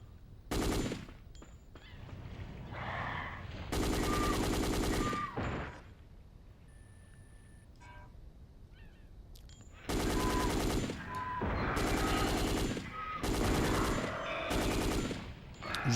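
Dino Crisis 2 gunfire: loud bursts of rapid automatic shots in several separate volleys, with quieter game ambience and tonal effect sounds between them.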